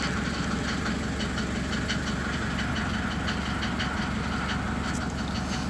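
SsangYong Musso engine idling cold inside a garage, a steady loud rumble with a fast even knock running throughout, close and unbroken, with no voices.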